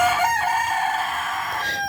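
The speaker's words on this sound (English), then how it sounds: "Now my rooster's just being rude." A rooster crows loudly and close by, one long drawn-out call with no talking.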